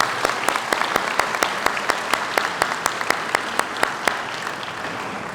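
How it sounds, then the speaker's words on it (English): Audience applause at a school convocation ceremony, a broad wash of clapping with one sharp, rhythmic nearby clapper standing out in a steady beat. "Another round of applause for Ms. Delenta."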